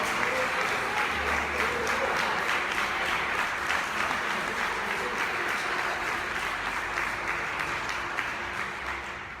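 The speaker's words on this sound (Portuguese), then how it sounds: "você vai aplaudir bem forte as suas palmas, bem forte, mais forte, mais forte" A church congregation applauding loudly and steadily, a dense continuous roar of many clapping hands with low background hum, holding strong for the whole stretch before easing slightly at the end.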